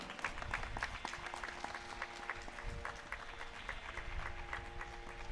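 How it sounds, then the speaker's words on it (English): An audience at a music meditation academy session claps together, a continuous moderate patter of many hands with distinct individual claps standing out, faint and roomy, with steady musical tones humming underneath throughout. "A big round of applause, everyone"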